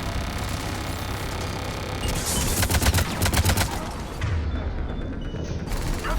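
Turret fire in the Mass Effect 3 video game crackles in a rapid burst of repeated shots over a constant mechanical hum, loud and close, then drops back to the drone.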